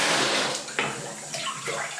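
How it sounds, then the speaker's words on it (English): A blocked sink is worked with quick presses of a plunger over the plug hole, giving close sloshing and splashing water in short bursts, with no voices. "I'm going to get that so that it's over the plug hole and then I'm going to press down on it very quickly."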